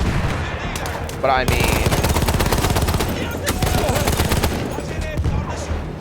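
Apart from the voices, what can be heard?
MG08/15 machine gun firing in video game Battlefield 1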